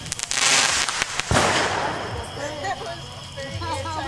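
Fireworks going off outdoors: a run of sharp bangs and crackling bursts early on, a heavy blast near the middle, then fading crackle and whistling trails, with people's voices faintly underneath.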